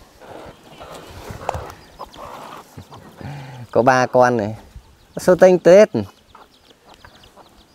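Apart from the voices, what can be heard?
chicks and chickens clucking on a farm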